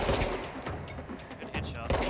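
Gunfire from the video game Control, a few sharp shots and bursts over a steady game soundscape, with a couple of strong reports near the end.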